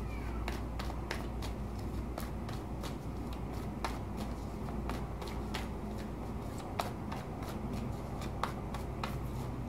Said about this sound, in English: I'm going to shuffle it a little bit more, cut the deck, and we'll begin.